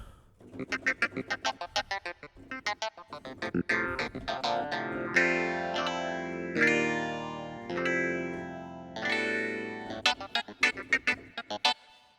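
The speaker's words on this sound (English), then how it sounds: "I picked a funky clav today for the sound." Funky clavinet riffs with a warbly, processed tone, choppy staccato stabs alternating with held, swelling chords, played solo and fairly close.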